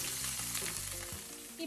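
Ground masala paste for mutton chukka sautéing in very hot oil, a loud continuous close sizzle with faint stirring throughout the brief moment.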